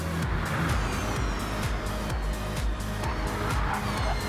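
Race cars speeding around the Bathurst circuit, engines roaring continuously with tire squeal and cars sweeping past in quick succession, loud and close.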